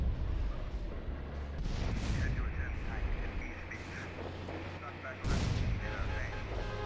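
Tank cannon booming in GTA San Andreas, heavy blasts near 1.7 and 5.3 seconds standing out over a dense, continuous rumble of game noise and engine drone.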